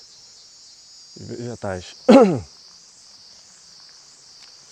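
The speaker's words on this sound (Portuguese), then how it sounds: "Cigarra cantando, não sei se vocês estão escutando." A cicada sings in a steady, continuous high drone in summer, running throughout while someone speaks briefly in the foreground.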